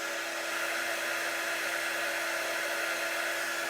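A small heat tool blows with a steady, even whooshing hum as it dries ink on a sweatshirt, constant and close with no talking.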